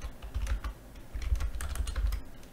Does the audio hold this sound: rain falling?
no